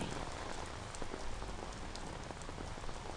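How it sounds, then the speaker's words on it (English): Steady rain patters on a hard surface in an even, continuous wash with scattered closer drops, fairly soft throughout. "It's like this damn rain."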